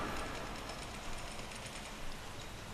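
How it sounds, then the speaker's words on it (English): Subway trains in the Deadlight video game give a steady, dense rumble and rattle of rail cars, a continuous mid-loud roar with no talking. "these are subway trains"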